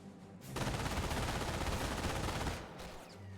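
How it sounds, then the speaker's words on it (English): An MG42 machine gun fires a long continuous burst in the battle game Company of Heroes, a dense loud rattle lasting about two seconds before cutting off into quieter background battle noise. "MG42 now suppressing the Riflemen."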